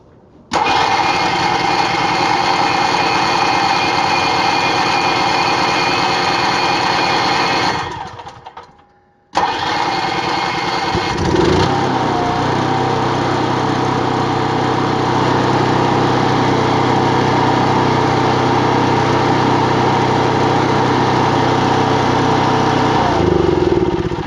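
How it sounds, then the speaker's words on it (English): An Onan Cummins 2.8 kW RV generator cranks and fires, runs loud and steady, cuts out briefly, then restarts and keeps running with a rough, slightly uneven engine drone and no talk. "we're going to start our generator and see if it's starting"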